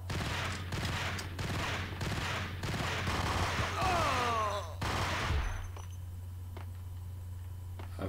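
Gunfire crackles in the noir shooter Max Payne, a steady run of rapid shots over a low engine-like hum, thinning out into a few sparse cracks toward the end.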